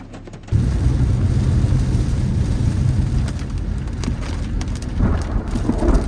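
Heavy thunderstorm rain in Arkansas pours steadily with low rumbling thunder beneath it, loud and close throughout, with no voices.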